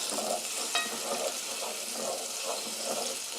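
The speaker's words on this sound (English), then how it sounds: "Give this a bit of a stir." Chopped onions frying in a pan are stirred, a steady sizzle with soft rhythmic scraping strokes repeating at an even pace, close and moderately loud.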